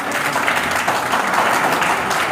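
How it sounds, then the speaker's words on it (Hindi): Loud, dense applause from an audience at a speech event, sustained evenly and close for the whole stretch. "एक बार जोरदार ताली सचिन सर के लिए।"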